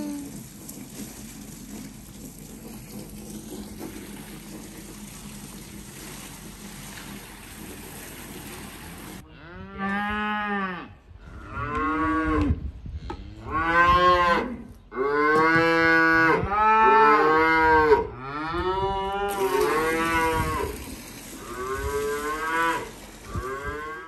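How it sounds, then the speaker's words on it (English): A group of Highland cattle, including calves, moo back and forth. The deep, drawn-out calls are loud and nearby, overlap one another and rise over faint outdoor background noise. "We got all the cows talking to each other."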